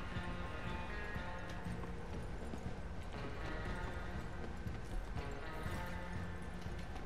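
Horse hooves clopping steadily in Red Dead Redemption 2 Online, a dense continuous patter mixed with game ambience at moderate level, with faint voice activity.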